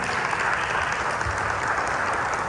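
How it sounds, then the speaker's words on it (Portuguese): Congregation clapping in a church service, a steady, dense burst of applause that holds at an even, loud level for the whole stretch, unbroken by talk. "Aplauda o Senhor pela vida deles."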